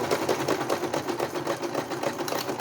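A sewing machine stitches fabric for a bake-even cake strip, running in a steady, rapid rhythmic chatter that stays close and even throughout.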